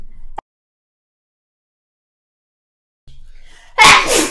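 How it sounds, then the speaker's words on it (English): A single loud, sharp sneeze bursts out near the end after a long stretch of silence, preceded by a faint breath and a brief rustle, with no talking. "I'm going to sneeze."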